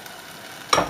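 Meat juices from venison hit a hot frying pan with water added, giving a sudden loud sizzle that bursts in near the end after quiet, crackling close up with no voices.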